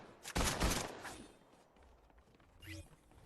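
Guns fire in a blocky building video game, a quick burst of sharp shots near the start followed by fainter clicks and effects, with a voice talking faintly underneath.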